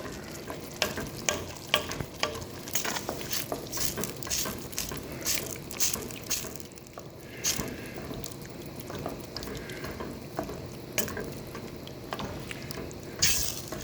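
Chili with melting cheese is stirred in a pot, giving quiet, repeated spoon scrapes and knocks over a soft background sizzle, with no voices.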